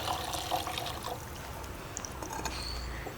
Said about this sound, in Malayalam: ഈ തിളച്ച വെള്ളം ഈ അരിയിലോട്ട് ചേർത്ത് കൊടുക്കുക